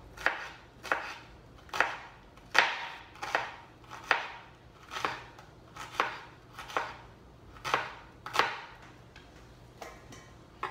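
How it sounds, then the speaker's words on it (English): A knife chops a small raw shallot on a cutting board, about a dozen crisp, even strokes in a steady rhythm, close and clear with no talking. "I'm cutting the shallot."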